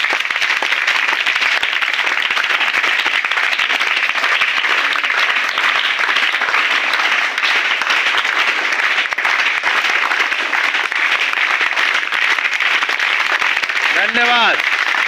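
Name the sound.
loud applause opening the program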